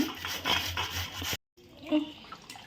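Three potatoes rubbed on a fine kitchen grater, a steady scraping rasp that runs for over a second, breaks off briefly, then returns more faintly and unevenly.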